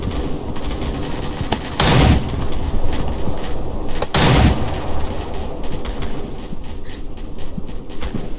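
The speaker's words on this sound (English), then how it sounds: "Suppressing fire." Sustained suppressing gunfire in the Roblox military shooter BRM5, loud, dense automatic fire rattling nonstop with a couple of heavier blasts standing out.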